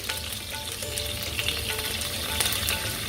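Lemongrass and kaffir lime leaves fry in hot oil in a pan for Balinese spiced fish, a dense, even crackling sizzle with small pops, close and steady throughout, no speech.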